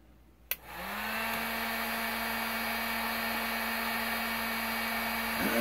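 Heat gun switched on to heat a telephone wire connector, a click followed by a steady, loud, close blowing whine that holds without change for several seconds; no speech.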